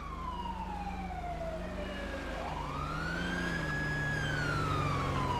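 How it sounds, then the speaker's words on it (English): Wailing emergency vehicle siren in a roleplay video game, one long falling then rising sweep over a steady low engine rumble, moderately distant and alone without talk. "I hear some sirens. I bet the medics are almost here."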